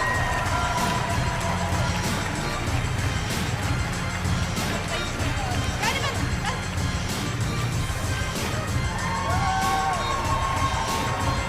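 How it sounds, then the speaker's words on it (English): A large crowd at a cosplay contest in Mannheim cheers and claps, a continuous roar with scattered shouts and whistles, loud and unbroken throughout. "A huge round of applause"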